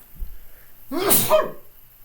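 A single sharp sneeze bursts out after a brief quiet breath, loud and close, then fades to silence.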